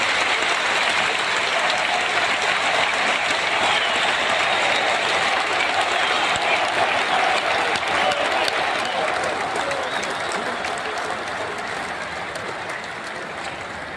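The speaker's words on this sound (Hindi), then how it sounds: "आप जोर से तालियां बजाकर उनका फिर से अभिवादन करें।" Loud, sustained applause from a large crowd at a giant Lord Ram statue inauguration in Goa, dense clapping filling the full stretch and easing slightly toward the end.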